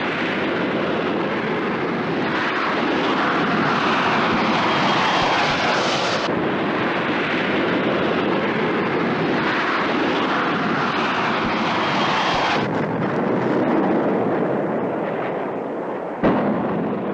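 Loud continuous roar of a Harrier jump jet engine during a rolling vertical landing on a paved highway, a broad jet rush that swells and cuts off sharply near the end.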